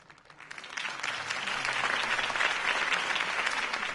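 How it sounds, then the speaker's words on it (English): Crowd applause in the Batman Telltale video game, greeting a campaign speech as a steady, dense wash of clapping that swells after the first second and holds loud to the end. "If only Mr. Wayne, my campaign's largest backer, could have heard that applause"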